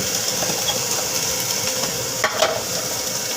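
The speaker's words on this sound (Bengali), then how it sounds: "মা রান্না করছে রান্না করুক" A mother cooks food at home in a kitchen, giving a steady close frying sizzle and hiss with a few faint clicks, and no voices.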